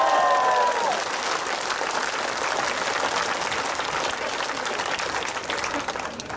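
A political rally crowd in Ipoh, Malaysia, gives sustained applause: dense, steady clapping that fills the whole stretch, with a faint murmur of cheering mixed in.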